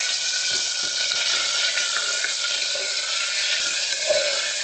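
Finely chopped medium tomato fries with potatoes in a pan while green onion sabzi cooks, giving a steady, close sizzle that runs unbroken throughout with faint stirring scrapes and no talk.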